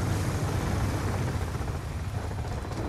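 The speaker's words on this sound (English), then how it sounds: "there's a helicopter out" A helicopter in the video game Black Ops 2 makes a heavy, continuous rotor rumble with broad engine noise, loud and steady throughout and slightly easing near the end.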